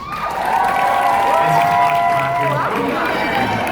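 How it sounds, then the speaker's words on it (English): Panel audience at San Diego Comic-Con breaks into loud, steady applause and cheering for a proposed fandom name, a dense crowd roar of claps and whoops lasting the whole few seconds. "Round of applause for Time Bandits."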